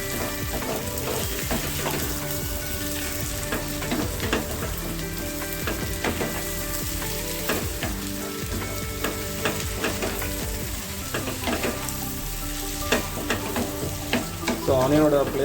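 Chicken pieces and onion frying and being stirred in a pan at home, a continuous loud sizzle with repeated scraping stirs, no talking.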